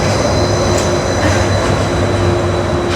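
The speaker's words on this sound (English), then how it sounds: "The monorail's passing by." The Disneyland monorail passes close by with a loud, continuous rumble and whir, steady rail and wheel noise with a faint high squeal holding for the whole few seconds.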